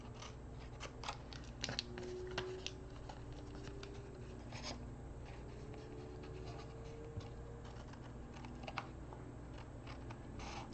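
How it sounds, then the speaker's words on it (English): Scissors snip through 2021-2022 pattern paper for a birthday craft, a quiet, steady run of close crisp cutting and scratching sounds with no talk. "And then I'm gonna cut here."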